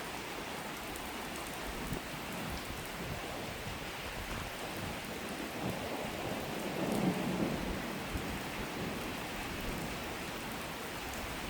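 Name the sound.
thunderstorm with rain, wind and hail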